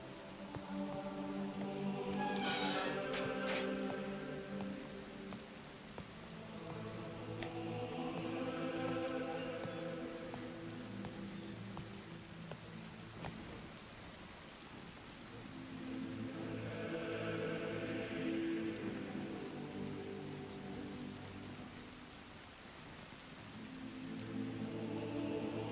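Rain falls as a soft, continuous patter. Louder swells of a game's layered ambient background rise and fall over it.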